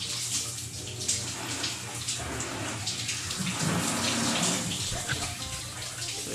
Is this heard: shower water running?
yes